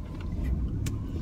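Cars pass on a nearby road as a steady low engine rumble with brief swells of traffic noise, no voices.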